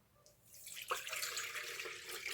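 Water pours from a tap into a bowl of yeast for bread dough, a steady close hiss and splash that starts about a second in and keeps running to the end.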